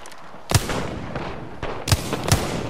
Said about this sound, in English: Throwing a thermite grenade.